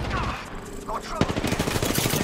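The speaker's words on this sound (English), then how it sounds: "They're shooting at me." Automatic gunfire from Apex Legends bursts out midway in rapid, close repeated shots, layered over a busy game soundscape and mixed with speech.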